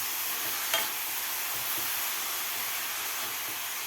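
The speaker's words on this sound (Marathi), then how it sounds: "आता आपल्याला हे तुपामध्ये गाजराचा किस 2 ते 3 मिनिट व्यवस्थित परतून घ्यायचा आहे." Grated carrot sautéing in ghee for carrot halwa, a soft continuous sizzle and hiss with an occasional faint stir, quiet and steady with no speech.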